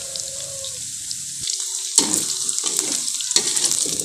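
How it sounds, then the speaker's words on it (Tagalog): Ilocano-style sautéing of ingredients in oil for ginataang pakak, a breadfruit dish, with oil sizzling and crackling close by, interrupted by brief clanks and a sudden louder sizzle. "ganito po ang diskarte namin ng mga Ilocano sa paggisa ng sahog"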